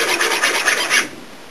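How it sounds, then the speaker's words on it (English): A rasp files the edge of a fabric-skinned boat, scraping off the finish in about four quick, rhythmic strokes. The rough rasping is loud and close, then fades to quiet. "Let's take a rasp."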